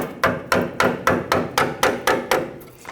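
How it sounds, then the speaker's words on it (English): Eight sharp hammer taps on a metal brake hose horseshoe clip on a Nissan Frontier, in a steady rhythm, about twice per second, each with a bright ringing edge, close and fairly loud. "I'm going to go ahead and tap this with a hammer"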